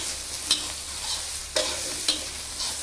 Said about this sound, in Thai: ผัดเลยค่ะ